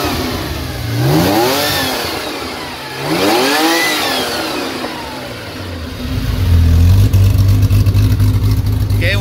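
A 1979 SC car engine revs up twice, each blip climbing and falling back, then drops into a steady, close idle with a low, constant drone.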